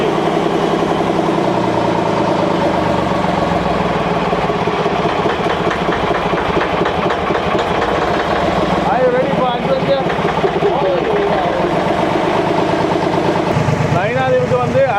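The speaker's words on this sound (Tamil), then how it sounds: "இன்ஜின் ஸ்டார்ட் பண்ணுறோம்" A loud boat engine starts and idles steadily with a throbbing, vibrating drone, rising and shifting briefly near the end, and voices mixed in underneath.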